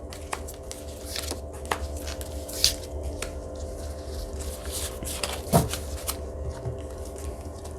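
Tarot cards shuffled and drawn during a reading, a steady soft papery riffle and slide with occasional sharper flicks and taps, close and continuous with no talking.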